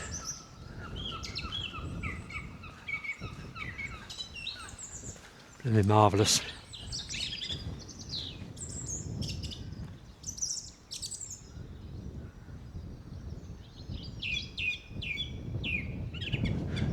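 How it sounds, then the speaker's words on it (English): A song thrush sings loud, varied phrases among other birdsong outdoors in January on Isle of Wight downland, with someone talking over parts of it. "Lovely to hear the song thrush singing."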